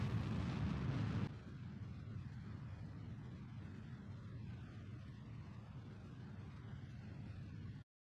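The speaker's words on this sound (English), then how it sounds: "now I just burn hard to get myself into a stable and round orbit" Rocket engine burning in Kerbal Space Program, a loud low roar that drops to a steadier, softer rumble after the first second and continues evenly until it cuts off near the end, with no voices.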